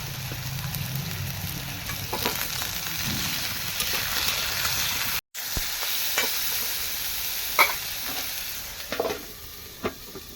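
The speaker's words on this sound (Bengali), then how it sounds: "যতক্ষণে বেগুনগুলো ভাজা হচ্ছে" Eggplant pieces, seasoned with salt and turmeric, fry in hot oil with a steady close sizzle, a brief dropout midway and a few sharp clinks of stirring near the end.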